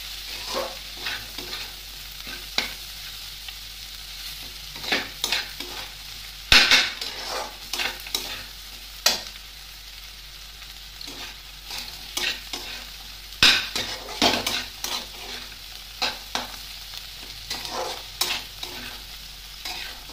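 Potatoes fry in plenty of hot oil and are stirred in a pan, giving a steady sizzle broken by repeated scraping strokes of a spatula and occasional sharp metal clinks, close and fairly loud, with no talking.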